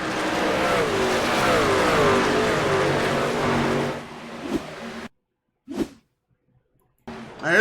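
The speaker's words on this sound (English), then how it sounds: "There's Cody in the 63 truck coming out of turn 2" The engine of the number 63 retro race truck roars past coming out of turn 2 on an oval racetrack, a loud sustained drone with shifting pitch for about four seconds, then fading into a few short distant bursts and near silence.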